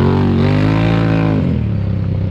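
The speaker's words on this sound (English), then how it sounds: "Got the exhaust on, you can hear him finally." Race vehicle with exhaust fitted at a winter series event, passing close and loud with a strong revving engine tone that drops in pitch as it goes by, then fades.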